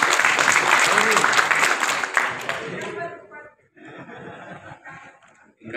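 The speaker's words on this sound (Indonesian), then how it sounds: "Kemudian Bapak Dr. Edi Brutu, tepuk tangan." A crowd applauds at the opening of a regional working meeting (Muskerwil), loud, close clapping mixed with chuckles and laughter that fades after about three seconds, followed by quieter murmuring and voices.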